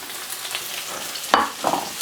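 Velveted steak drops into a hot pan with a sudden sizzle that flares twice and then settles into a softer, steady frying hiss, close by and fairly quiet.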